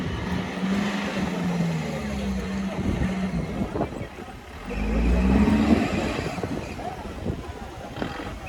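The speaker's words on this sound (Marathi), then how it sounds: "बघ जोरात गाडी काढते ही." An off-road competition vehicle's engine roars and strains in deep mud, revving in long surging bursts with a heavier push midway, loud and close, with crowd noise around it.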